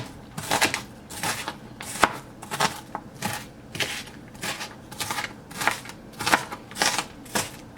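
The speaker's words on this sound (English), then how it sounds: "Just roughly chopping up the onions." A knife roughly chops half an onion on a cutting board, about a dozen close, crisp strikes in a steady, even rhythm with nothing else heard.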